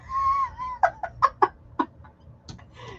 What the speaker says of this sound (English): Rooster, wake up!